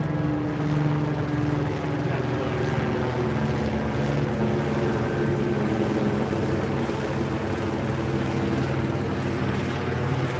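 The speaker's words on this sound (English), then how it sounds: "I hear the helicopter" A helicopter's continuous rotor thump and engine roar fill the air, steady and loud as it passes overhead with no letup.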